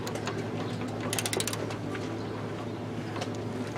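A ratchet with a 17mm socket works loose the oil drain plug on a Taotao 149cc GY6 scooter engine, a short burst of fast clicking over a constant low background hum.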